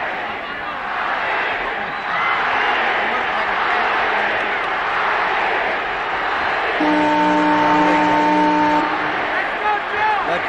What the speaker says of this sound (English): crowd is chanting Ali